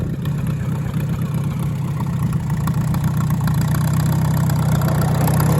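A Farmall tractor left sitting for 79 years runs in gear, its engine a steady loud low chugging drone that builds slightly toward the end, heard alone.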